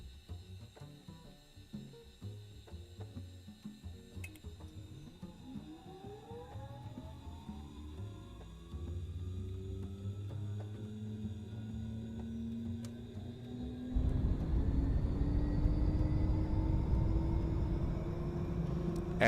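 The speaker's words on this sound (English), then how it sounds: "And it's time to start the airplane." An aircraft engine spooling up in a flight simulator, a rising whine climbing steadily before a loud roaring rumble takes over and holds, close and continuous with no talk.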